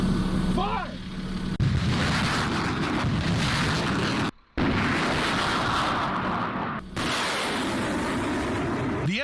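An M142 HIMARS launches an artillery rocket with a loud, sustained roaring rush that stays close and steady for several seconds, broken by two brief dropouts.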